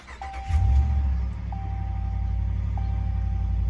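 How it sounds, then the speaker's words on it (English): 2019 Ram 1500 Laramie pickup started with a push button: a cranking burst catches into a deep, steady idle rumble, while three short electronic chimes sound at even intervals. "Hit the start button."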